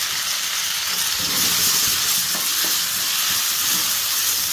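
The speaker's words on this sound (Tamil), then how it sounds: "கொஞ்சம் வெங்காயம் தக்காளி சீக்கிரம் வதங்கிடும்" Onions and tomatoes with rock salt sauté in a pan for a prawn masala, giving a loud, steady, close sizzle with a few stirring scrapes and no talk.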